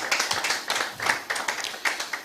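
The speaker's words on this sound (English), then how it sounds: "Please, another round of applause for our panelists" Audience members at a technology forum applaud the panelists, a modest round of individual claps in quick uneven rhythm, fairly close and moderately loud.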